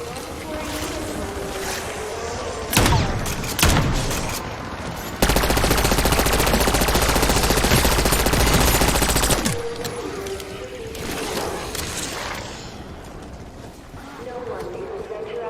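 Sentry turret in Call of Duty Zombies opening up in a loud, dense sustained burst of automatic fire lasting several seconds, with shorter shots before it and voices and game noise around it.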